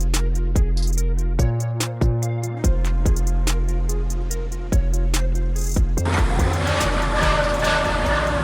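A Ferrari drives up with sharp, loud engine blips and revs in quick bursts, rising to a sustained roar near the end, close by and with no talk over it.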